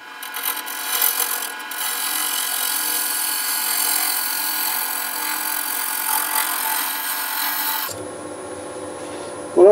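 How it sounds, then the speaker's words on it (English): A woodturning lathe tool shaves a spinning wooden birdhouse blank back toward true, a steady loud scraping rasp running about eight seconds before cutting off abruptly into quieter workshop sound. "I'll keep on taking shavings off it until we get it more back into true"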